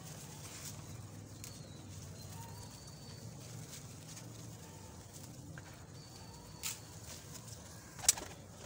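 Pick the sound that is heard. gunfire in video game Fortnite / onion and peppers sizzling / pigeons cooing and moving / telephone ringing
pigeons cooing and moving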